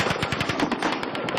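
Sustained rapid-fire automatic gunfire from the Mandalay Bay hotel in Las Vegas rattles in an even, fast string of shots, loud and continuous with no voices.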